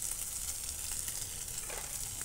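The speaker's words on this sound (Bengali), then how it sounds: "আবার সব একটু ভালো করে কষিয়ে নিচ্ছি।" Pointed gourd and potato curry, already salted, sizzles as it is sautéed in a pan, a soft steady frying hiss with faint stirring scrapes and no talking.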